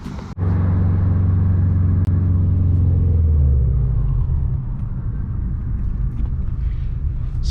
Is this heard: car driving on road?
yes